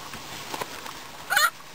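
A startled pheasant hen being captured lets out a short, harsh squawk near the end, after a few faint rustles and scuffles close by.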